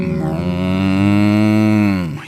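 A cow gives one long, loud, sustained moo lasting about two seconds, rich and harmonic, heard alone and up close.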